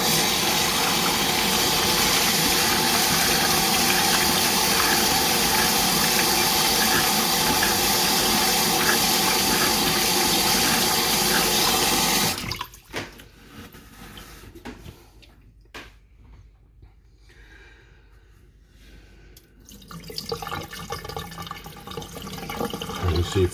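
Water runs steadily to rinse fine black sediment away while silver is recovered from IC chips. A loud, continuous wash lasts about twelve seconds, then stops abruptly, leaving a few faint clinks and drips before a softer flow returns near the end.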